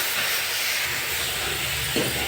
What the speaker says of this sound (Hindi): छोंक डाल दिया और सारी चीज़ें, मेथी का छोंक लगता है इसमें